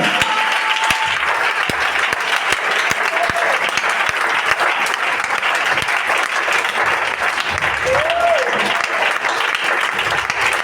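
A church congregation applauds steadily and loudly throughout, a dense continuous wash of clapping with no pauses, with a few faint voices and cheers mixed in.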